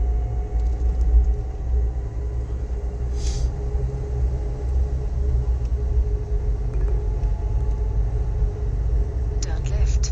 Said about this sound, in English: My car is running right now